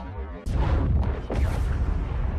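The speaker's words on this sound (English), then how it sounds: "The explosion they heard from above made them turn towards it." A deep rumbling explosion from a Star Wars battle story about the Death Star over Endor, a low boom that swells twice in quick succession and lingers as a loud roar.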